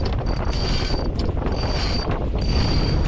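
Headsail on a sailboat being furled away in fluky wind near an anchorage, with lines running through pulleys in a steady rushing, creaking mechanical sound under strong wind noise.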